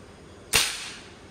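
A single real gun fires once, giving a sharp, loud crack that decays quickly into a short tail, with no other sounds around it.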